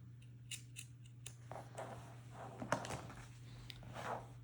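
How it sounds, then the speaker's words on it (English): Scissors snip through two layers of Oxford shirt fabric at the placket opening, giving a series of close, crisp cuts, quicker at first and then more spaced, with a faint steady hum in the background and no speech. "So I'm gonna cut through both layers of fabric here, right at the center of the placket opening"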